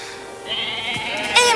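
A sheep bleats once, a wavering mid-pitched cry that swells and ends in a louder, brighter burst, close and alone in a quiet setting.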